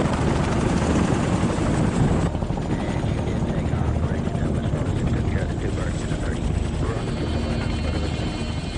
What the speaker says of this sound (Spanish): los primeros helicópteros americanos despegaron y comenzaron el vuelo de 13 minutos hasta la zona de aterrizaje